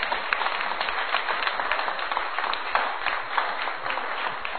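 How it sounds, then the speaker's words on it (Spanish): Sustained applause from a church congregation during a Spanish-language sermon, dense steady clapping that fills the space evenly with no break for the whole stretch. "denle un aplauso a Dios"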